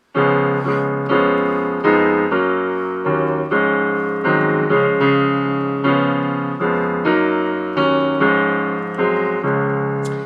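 A piano plays a rich, sustained dominant ninth chord repeatedly in a steady rhythm, each strike ringing full and close.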